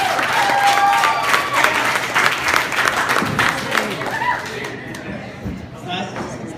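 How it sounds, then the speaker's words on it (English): Comedy club audience applauds a stand-up comedian, a dense, loud wash of clapping with scattered cheers and chatter that gradually thins toward the end. "Give it a round of applause."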